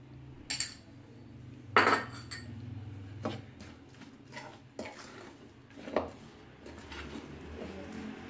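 Cutlery and dishware clinking as chicken is mixed with salt and black pepper at home for dum fried chicken: scattered light clinks and scrapes, moderately close, with quiet pauses between.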